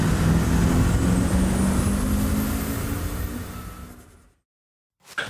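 Turbocharged TVR sports car cruising on the road, a loud steady engine drone with rising whine that fades away and cuts to silence, then returns briefly at the end.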